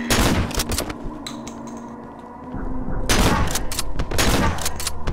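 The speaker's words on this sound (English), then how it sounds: "I shot off 5 rounds" Rapid bursts of gunfire from the horror game Cry of Fear, several dense volleys of shots at close range, with a quieter lull between them and echoing reverb.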